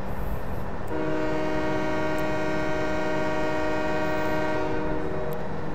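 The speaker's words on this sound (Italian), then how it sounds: "Piace troppo sto clacson" Train horn in Farming Simulator 17, a steady chord of stacked tones sounding loud and sustained for about five seconds over a constant engine rumble, alone with no talk.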